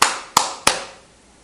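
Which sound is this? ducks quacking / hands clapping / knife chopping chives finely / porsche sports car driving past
hands clapping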